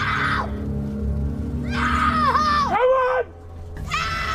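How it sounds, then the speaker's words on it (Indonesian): A man in the 2012 film Chained screams as loud as he can, drawn-out, wavering shrieks that rise, bend and break, loud and close, with a brief pause before a final burst. "Bob memberinya kesempatan untuk berteriak sekencang-kencangnya"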